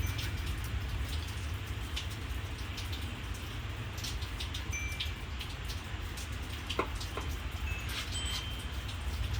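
Steady dense patter of rain with sharper ticks and taps of large hailstones striking a surface scattered through it, continuous and fairly close.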